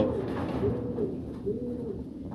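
A fancy male pigeon coos in a loft with soft, throaty rolling notes that repeat steadily at close range. No voices are heard.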